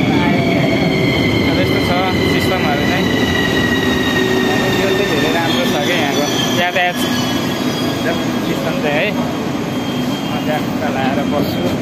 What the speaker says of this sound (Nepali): ठ्याक्कै 1:16 नै गाडी आयो कि होइन